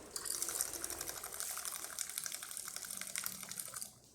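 A De'Longhi Dinamica coffee machine dispenses hot water in a steady, quiet gush with a faint pulsing mechanical whir, stopping abruptly just before the end.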